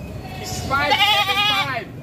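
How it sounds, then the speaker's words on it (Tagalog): A goat gives a clear, wavering bleat at close range, rising and falling over about a second, amid rainy outdoor background with people talking around it. "Magkano niyo po nabili mga kambing na ito?"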